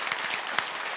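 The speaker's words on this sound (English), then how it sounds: "Big applause for all of you." Conference audience at APrIGF 2024 in Taipei clapping for the participants, a brief burst of dense, steady applause from many hands, loud and close.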